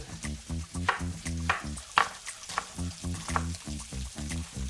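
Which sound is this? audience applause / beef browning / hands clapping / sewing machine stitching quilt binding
beef browning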